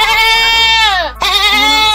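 A loud, close goat bleat, long and wavering, broken by a short gap before a second drawn-out cry, heard alone at high volume.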